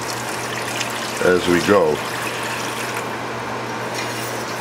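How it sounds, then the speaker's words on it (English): A quart of water pours into a stew pot of beef, potato, black beans and spinach, a continuous gurgling stream under a short spoken phrase. "I'll put a quart of water."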